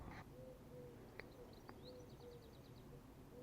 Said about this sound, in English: there's a cuckoo in the background there